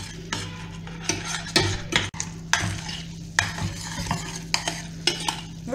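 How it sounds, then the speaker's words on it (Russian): Sugar caramel boiling in a pan on lowered heat, cooked to a golden amber for lollipops, bubbles with a soft sizzle while a utensil scrapes and knocks against the pan in uneven strokes, close up. "Варим карамель до такого золотистого янтарного цвета."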